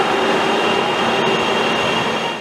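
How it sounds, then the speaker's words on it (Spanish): A CRH-6F interurban express train in China, designed for 160 km/h, rumbles past with a steady, loud rail roar and faint wheel noise for the whole stretch, no voices. "El primer tren expreso interurbano de China, cuya velocidad diseñada es de 160 km por hora,"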